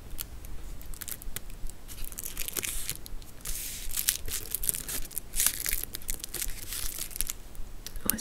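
Wrapping paper around a small pencil-shaped advent calendar item is crinkled and torn in close, crisp bursts, with soft rustling between the rips and no talking.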